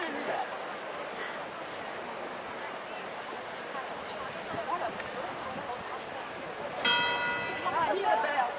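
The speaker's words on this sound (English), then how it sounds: "Ah, here the bell." A church bell rings out at St. Peter's Basilica in Rome, its bright, resonant peals rising near the end over a crowd murmur and footsteps in the square, with people talking throughout.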